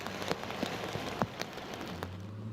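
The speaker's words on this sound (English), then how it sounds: "Sporadic showers moving through city to city, dumping water across the entire area." Rain falls steadily during a San Diego storm, a continuous wash of patter with scattered louder drops and drips standing out, fairly close and alone without voices.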